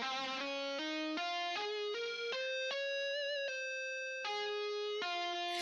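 Clean Evon guitar VST plugin playing a melodic line of sustained, bright plucked notes, one after another in a steady phrase, close and alone with no talking.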